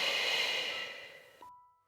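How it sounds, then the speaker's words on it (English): A single slow breath held and released during a Pilates exercise, a soft airy exhale that fades away over under two seconds. "we have 5 breaths here"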